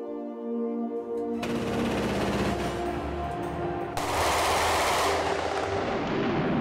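A SkyShield 35mm anti-aircraft revolver cannon fires long, loud continuous bursts. A harsh roar of rapid shots swells after a brief hum at the start and grows louder partway through.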